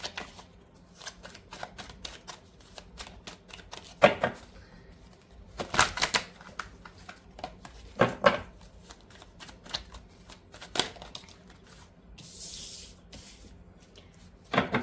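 Tarot cards are shuffled by hand during a Hindi reading, a steady soft riffling and flicking with a few sharper snaps, close and fairly quiet, with no talk.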